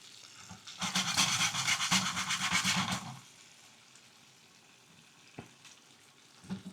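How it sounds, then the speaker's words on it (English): Peppers and mushrooms fry in a titanium frying pan, giving a loud close sizzle for about three seconds that then fades to a quiet crackle with a couple of small knocks. "I want to fry the pepper and the mushrooms"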